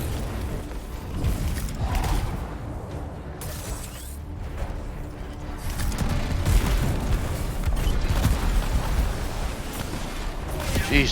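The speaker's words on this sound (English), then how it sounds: "Jeez, that was a lot of explosions." Repeated explosions and heavy gunfire boom through a combat scene in the video game Anthem, a dense, continuous barrage with a player talking over it.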